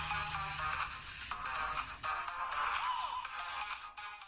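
Audio playing through the down-firing speaker of a Bluboo S8+ smartphone, thin and tinny, a steady bright stream that continues throughout without any talk.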